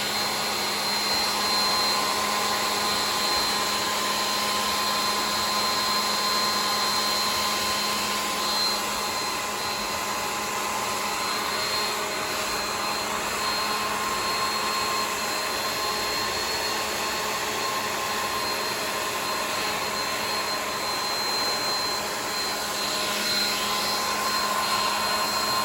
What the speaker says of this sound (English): Now as I blow dry, I'm taking the knife and just